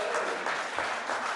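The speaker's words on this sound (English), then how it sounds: "applause like that interrupting the flow of the debate is not acceptable" Applause breaks out in a parliamentary chamber during the third reading of an education amendment bill, a brief, even burst of many people clapping at moderate level.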